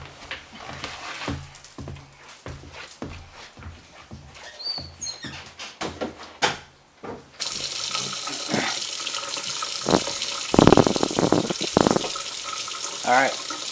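Water runs into a clogged household drain being cleared. Quiet knocking and some talk come first, then a steady, loud rush of flowing water takes over for the second half.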